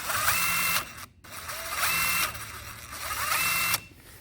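A Craftsman impact driver runs at high speed in three whirring bursts, each ending with a brief drop between them.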